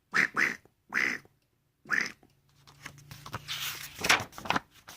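A duck quacks in a few separate bursts, then a noisier run of quacks and splashy rustling follows, close by and fairly clear.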